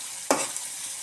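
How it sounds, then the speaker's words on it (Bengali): Onions sizzle and fry in a pan with garlic, cinnamon and bay leaf for a Bangladeshi egg curry. A steady hiss runs throughout, broken by two sharp stirring scrapes close by. "পেঁয়াজগুলো একটু ভেজে নিব কিছুক্ষণ।"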